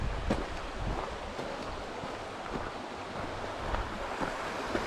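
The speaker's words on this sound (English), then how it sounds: "Sounds like we've got a nice stream." A mountain stream flows steadily near the path to Brown Pike, its continuous broad rushing wash holding an even level throughout, with faint wind noise and no talking.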